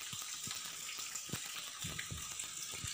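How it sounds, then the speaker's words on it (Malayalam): Cake batter poured little by little into a baking tin in a home kitchen, giving a soft, continuous wet pouring and gushing sound with small irregular splats and plops, close and steady throughout. "ഇനി നമുക്ക് ഈ ബാറ്റർ നമുക്കാണെങ്കിൽ കുറച്ച് കുറച്ച് വെച്ച് ഈ ബേക്ക് ചെയ്യാനുള്ള പാത്രത്തിലേക്ക് ഒഴിച്ചു കൊടുക്കാം."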